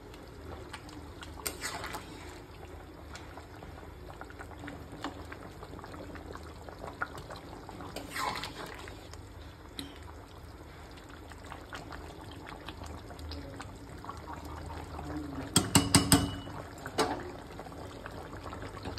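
Jackfruit and prawn curry with masala is stirred in a pan: a quiet simmering bubble with scattered faint scrapes and a short louder clatter of the spoon near the end, no talking.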